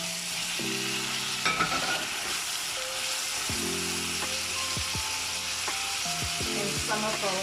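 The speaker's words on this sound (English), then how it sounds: "And then I'm going to give this a mix, just so the onions does not burn." Onions and tomatoes sizzle in a pan while being stirred, a steady close frying hiss with scraping stir strokes and faint tonal background sounds throughout.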